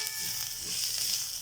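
Ginger garlic pepper paste sizzles and fries in a hot pan while being stirred for egg tawa masala, a steady close hiss throughout.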